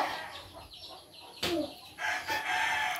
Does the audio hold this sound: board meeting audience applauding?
no